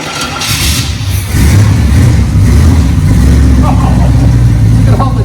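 A 1967 Camaro RS/SS convertible idles with a slight lope after a first start, a steady low engine rumble running close and loud throughout, with a brief faint voice near the end.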